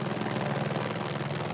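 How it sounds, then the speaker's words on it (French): A helicopter ferrying supply loads to Alpine pasture huts thunders nearby, its dense rotor beat pulsing steadily and loudly throughout. "À bord de l'hélicoptère, Dominique Baron coordonne les manœuvres."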